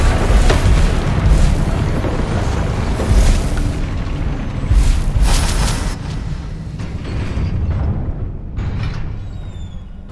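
Heavy, continuous rumbling blasts from the Confringo fire spell in Hogwarts Legacy, loud and dense, with booming low-end surges and crackling bursts layered over a steady roar for the full length.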